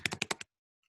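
Five quick keystrokes tap on a computer keyboard in a rapid burst, close and crisp, then the room falls silent.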